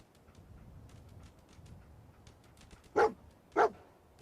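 Dog barks in the video game Fallout 4: two sharp, close barks about half a second apart near the end, over a low game ambience.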